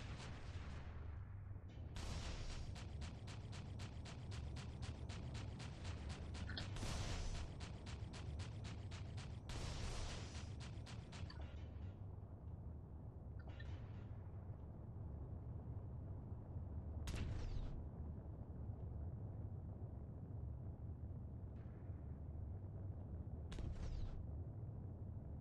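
Incoming torpedo explosions in the space game Freelancer: repeated heavy blasts and rapid crackling bursts over a constant low engine rumble, with several separate hits spread across the stretch.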